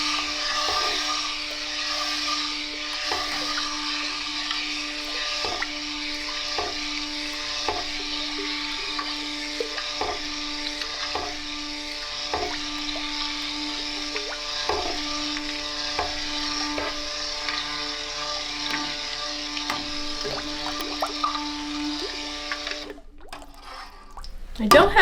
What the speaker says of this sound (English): I just want to blend this to emulsification